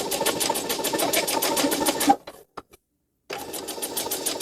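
A domestic sewing machine stitching fabric runs in a steady, close, fast whir for about two seconds, stops briefly with a few faint clicks, then starts up again.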